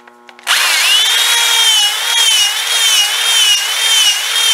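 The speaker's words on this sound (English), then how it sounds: "Now you can see, Wayne, I got a file bit, so now I'll just join them holes." A power drill fitted with a file bit cuts between drilled holes in a Damascus steel knife blank, starting abruptly and then running as a steady, loud, high whining grind with no talk over it.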